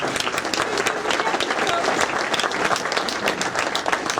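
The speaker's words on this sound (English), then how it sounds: "let's give a round of applause for all those people" Banquet guests at a sports hall of fame induction applaud in a sustained, dense wash of clapping that stays loud and even throughout, with no voice rising above it.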